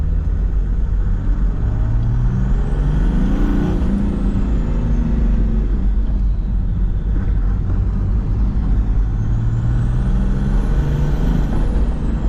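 A 300 hp Mercedes build's engine runs loud and steady with a low rumbling drone, rising in pitch twice as it revs up and then settles back, with no talking.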